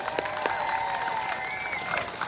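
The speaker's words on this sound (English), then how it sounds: "give a big round of applause all over the world for our bronze medalists" An audience applauds bronze medalists at a pro pickleball tournament, steady clapping from a crowd with some cheers and whistles mixed in.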